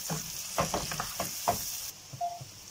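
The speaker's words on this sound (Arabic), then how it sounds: "هفضل كده ان انا اقلبها عشان تفك معايا" Garlic frying in a pan while being stirred, with a soft sizzle under a series of scraping strokes from the spoon, close and moderately quiet.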